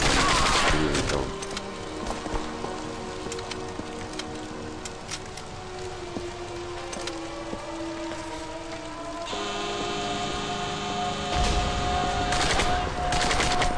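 Gunfire in the PC video game Turning Point: Fall of Liberty: dense, rapid automatic bursts crackle loudly and continuously, with sharp louder shots at the start and end.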